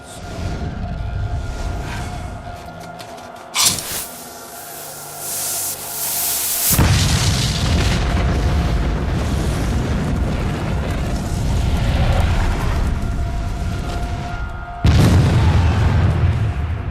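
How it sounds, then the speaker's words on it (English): A cannon firing canister shot gives a sharp boom with a whooshing burst, then a second heavy blast later on, over a constant rumbling background. "The casing explodes, spraying the iron balls into advancing troops"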